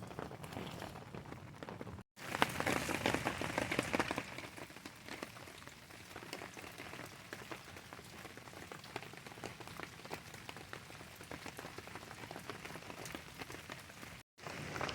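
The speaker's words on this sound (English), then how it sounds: "it's just been raining all day" Steady rain falls on a surface in a dense, continuous patter, louder for a couple of seconds near the start, then settling into an even hiss with no one speaking.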